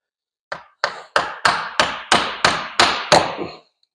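A hammer strikes a castle nut to drive a CV axle into the hub of a Honda Foreman 500 ATV, nine sharp metallic blows in a steady, evenly spaced rhythm, close and loud with no talk.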